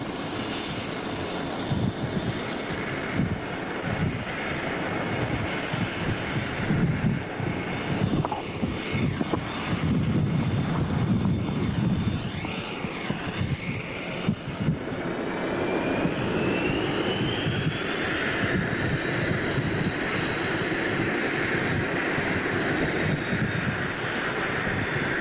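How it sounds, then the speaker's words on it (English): A jet aircraft on an aircraft carrier deck taxis toward the catapult, a loud, continuous engine roar with a rising whine as thrust builds, heard close throughout. "As the aircraft is taxied to the catapult"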